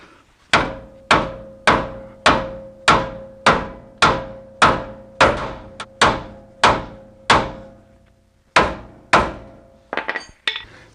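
Hammer blows on a Toyota 4Runner front suspension part, a steady series of about fourteen loud metallic strikes roughly every half second, each ringing briefly, close up with no talk.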